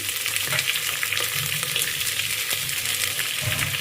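Onions, green chillies and crushed garlic fry in oil in a pan for a ridge gourd kulambu, making a dense, steady sizzle with scattered crackles and pops throughout.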